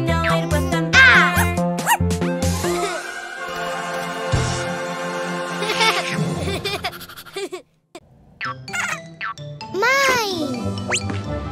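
A cartoon dog barks along with a cheerful children's sing-along, the yips falling between sung lines over bright tinkling music, with a voice and giggles nearby.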